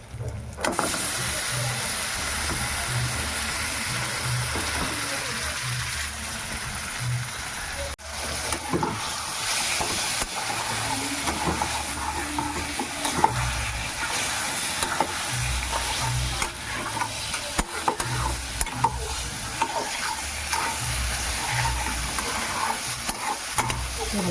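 Kochu greens with shrimp fry in a pan after mustard paste goes in, giving a constant loud sizzle broken by repeated stirring scrapes and utensil knocks up close, with no voices.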